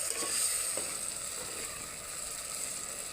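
Spice masala sizzles and fries in hot oil, a steady close crackling hiss with a few faint stirring scrapes, no voices.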